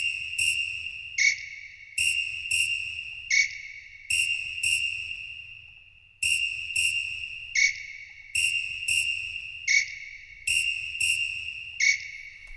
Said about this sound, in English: So there's the whistles